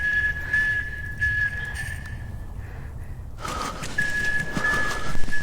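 Loud high whistle in a film scene, a piercing steady tone sounding in long stretches with a brief gap, set against breathy rustling ambience that swells louder in the second half.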